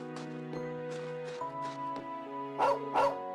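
A dog barks twice in the video game The Legend of Heroes: Trails of Cold Steel 2, two close, loud yips near the end over steady in-game music.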